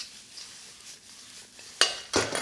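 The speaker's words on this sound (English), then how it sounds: "I'm literally going to give that a toss through 5 or 6 times on that high heat" Prawns with garlic tossed in a hot pan over high heat, a faint sizzle under two sharp metallic clatters of the pan near the end.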